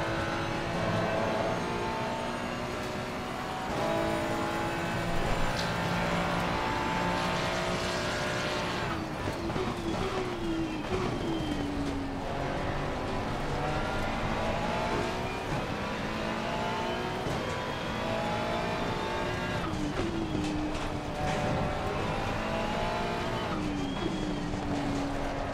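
Race cars in Assetto Corsa Competizione at Zandvoort, several engines roaring and revving close together through shifts and overtaking attempts, a continuous loud layered drone with no talk.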